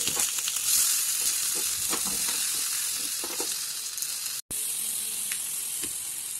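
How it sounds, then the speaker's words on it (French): Vegetables and peppers grill in a cast-iron dish directly over a gas flame, giving a steady, close sizzle and crackle with hissing steam throughout, broken by one very brief gap. "Je vais venir faire griller l'intégralité de mes légumes."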